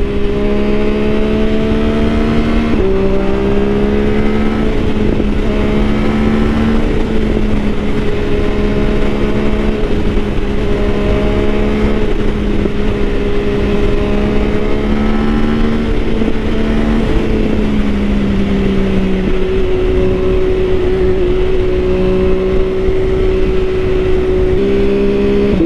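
MV Agusta F3 motorcycle engine drones loud and close under throttle, its pitch climbing and dipping as revs rise and shift, continuous for the whole stretch.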